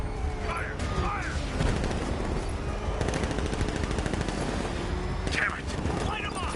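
Bursts of rapid gunfire and machine-gun volleys crackle in the Batman Arkham Knight video game, with voices shouting over the shooting.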